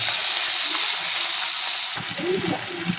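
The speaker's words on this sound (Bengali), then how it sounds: "শুকনো লঙ্কা পাঁচ ফোড়ন একটু ভাজা হওয়া হতে হতেই আমরা দিয়ে দেবো এর মধ্যে কুমড়ো আর পেঁয়াজ" Pumpkin and onion fry in hot mustard oil in a kadai with dried red chilli and panch phoron, giving a steady, close, bright hiss that swells slightly near the end, with faint utensil sounds and no speech.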